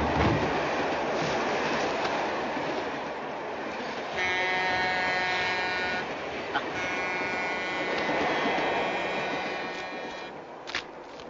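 A moving passenger train in a 1952 film, a steady rumbling rail roll with faint rhythmic clatter and some tonal whine, continuous throughout with no voices.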